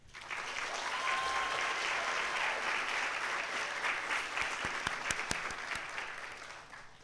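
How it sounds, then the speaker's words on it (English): Sustained audience applause fills a respiratory therapy pinning ceremony hall, a dense, steady wash of many hands clapping that stays strong for several seconds before easing off at the end. "can you please join me in giving them a round of applause?"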